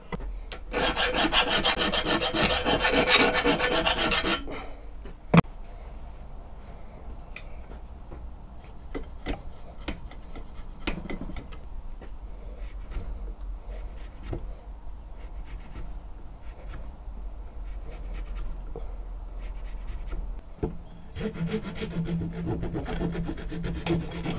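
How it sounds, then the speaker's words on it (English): A wooden spear about five feet long is worked by hand with no power tools: a burst of loud rough sanding, then quieter scattered scraping and taps, and steady rasping of a file along the edge near the end. "I'm going to sand around the top, sand the handle, and with a file put the edge on the spear top"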